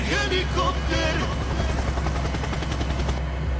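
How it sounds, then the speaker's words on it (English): A Robinson R44-sized training helicopter's rotor thumps in a fast, steady chop close by, with brief voice-like sounds at the start. "Helicopter!"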